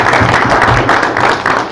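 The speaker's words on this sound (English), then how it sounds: "how about we give a round of applause for those guys?" A live audience applauds at a conference event, with steady dense clapping that fills the space throughout.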